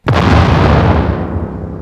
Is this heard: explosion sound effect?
yes